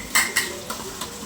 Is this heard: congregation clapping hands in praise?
no